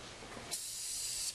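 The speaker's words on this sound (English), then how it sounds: "So I take my lube and spray the roller and the bottom bracket." An aerosol can of lube sprays onto a garage door's bottom roller and bracket, a single sharp hiss starting abruptly and holding steady for under a second, close and fairly quiet.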